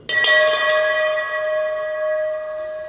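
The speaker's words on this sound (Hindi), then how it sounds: "पहले घंटी बजा लूँ।" A metal temple bell at a Sant Ravidas temple is struck two or three times in quick succession, then rings on as a clear, sustained tone that slowly fades.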